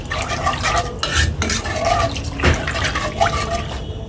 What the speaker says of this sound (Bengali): তো বলক না আসা পর্যন্ত আমি এভাবে নাড়তে থাকবো।